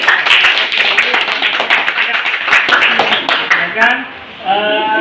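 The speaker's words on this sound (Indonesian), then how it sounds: "silakan beri aplaus kepada temannya" Classroom applause for a student, dense overlapping claps filling the room for about four seconds, then tapering as voices take over near the end.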